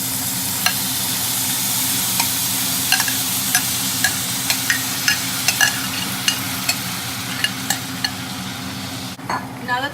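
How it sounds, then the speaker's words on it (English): Shrimp frying in oil in a pan, a close, steady sizzle broken by small pops and clicks of a utensil, ending with a brief shuffle of stirring. "And then we're gonna throw in our shrimp from earlier"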